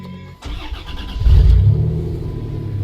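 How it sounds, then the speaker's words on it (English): A 1991 Dodge Grand Caravan SE is started up close after sitting for 22 years: a brief crank, then the engine catches with a loud surge and settles into a steady, rough running rumble. "Obviously we must start the race car because we can't skip doing that when we have the opportunity."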